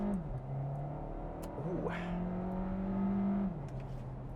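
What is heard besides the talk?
Volkswagen Tiguan 110TSI petrol engine accelerating hard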